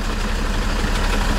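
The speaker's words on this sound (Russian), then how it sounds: "Взревели моторы." A long-haul truck engine idles close by on a Belarusian freight run, a constant heavy diesel rumble with no break and no voices.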